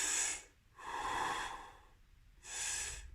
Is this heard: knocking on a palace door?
no